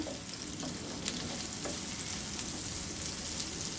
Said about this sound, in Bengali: তেল ঢেলে দিচ্ছি, পেঁয়াজ দিয়ে দিলাম।